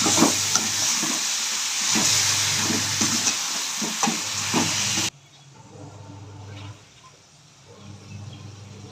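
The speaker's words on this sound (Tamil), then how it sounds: "வெங்காயத்தை வதக்கிக்கோங்க" Onions sizzle and fry in a pan, a steady bright hiss broken by a few stirring scrapes, loud at first and then dropping sharply to a quieter, softer sizzle.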